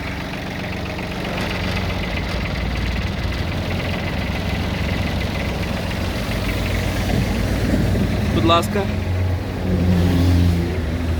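A Kubota Aste A155 mini tractor engine runs steadily at close range with its tiller raised, a rough, throbbing idle and mechanical rattle; someone briefly speaks near the end.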